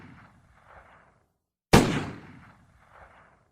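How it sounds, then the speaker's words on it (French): A single sharp revolver shot cracks out loud and close after a moment of near silence, its report decaying over about a second, with faint murmuring room tone before and after. "2 coups retentissent, à une distance de 1 ou 2 secondes à peine"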